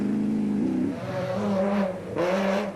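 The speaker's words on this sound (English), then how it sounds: "Cars were coming thick and fast" Rally race cars sweep past at speed during the Sun City 400, engines revving and rising then fading in quick succession, loud and close.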